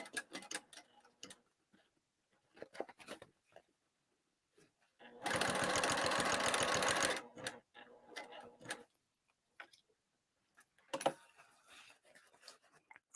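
A sewing machine runs in one steady two-second burst, stitching fabric lining for a bag, framed by quiet clicks and handling sounds before and after.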